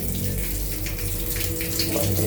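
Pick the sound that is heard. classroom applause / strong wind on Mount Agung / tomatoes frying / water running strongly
water running strongly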